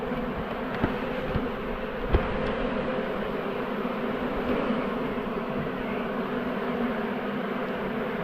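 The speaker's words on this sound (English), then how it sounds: "Bees under it." A dense swarm of honeybees buzzing continuously and loudly near a hive box, a steady droning hum with a few faint knocks, no voices.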